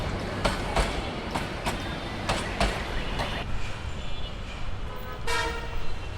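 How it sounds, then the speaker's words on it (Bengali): Subarna Express, a long passenger train from Chittagong with many carriages, rolls past in Dhaka near elevated expressway construction, giving a steady rumble with repeated clacking bursts and a brief horn toot near the end. "চট্টগ্রাম থেকে আসছে এই ট্রেনটি, সুবর্ণ এক্সপ্রেস।"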